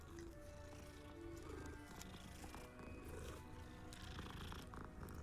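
A cat purring while being petted in the video game Hogwarts Legacy, a soft steady purr running under a busy game soundscape with music tones and ambient noise throughout.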